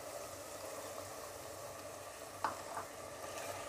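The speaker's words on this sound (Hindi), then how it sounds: "कीमा ब्राउन गोल्डन ब्राउन हो गए, अच्छे से फ्राई हो गए, तो अब मैं इसमें डालूँगी" Chicken keema frying in a handi as tomatoes go in, giving a steady close sizzle and crackle with one brief stirring knock partway through.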